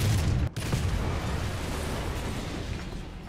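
A tank gun fires at an enemy tank's lower glacis plate. A loud, booming blast at the start rolls into a long rumbling roar with crackling debris that slowly fades.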